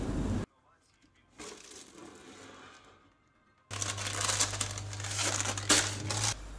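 Baking paper being peeled from a freshly baked sponge cake for a roll: soft crinkling and papery tearing in short bursts, close up, with quiet gaps between and a faint low hum at the end.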